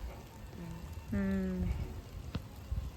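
Light rain patters softly outdoors among trees near Jodhpur during the monsoon, a faint continuous hiss with a brief humming voice and a sharp tap over it.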